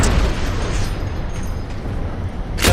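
Fusion coil blast in Halo 4, a loud, broad burst with a rumbling tail that fills the clip, followed by a second sharp burst at the end.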